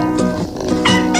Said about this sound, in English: Cats are cute.